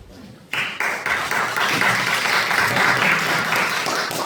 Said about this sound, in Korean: 할렐루야 안 하고 박수 치면 안 된다고